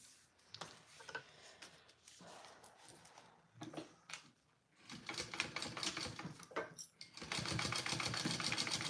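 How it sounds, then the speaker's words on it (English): A domestic sewing machine runs a seam attaching the lining of a circular fabric pouch at full seam allowance, with stop-start rhythmic stitching bursts that grow into a steady, louder run near the end. "then I will sew the lining on at my full seam allowance"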